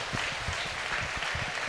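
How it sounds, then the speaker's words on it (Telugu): A church congregation claps for the Lord during a worship service, with dense, continuous applause at moderate volume and rhythmic low thumps underneath. "చేతుల పైకి ఎత్తి గట్టిగా ప్రభుకి చప్పట్లు కొట్టండి"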